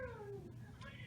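A single short cat meow, falling in pitch, heard close and fairly quiet.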